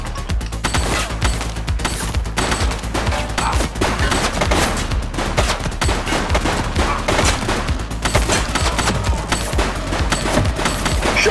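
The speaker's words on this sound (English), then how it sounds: "Shots fired!" Sustained gunfight in the police game The Precinct, a relentless barrage of close, loud shots and machine-gun bursts overlapping for the whole stretch with hardly a pause.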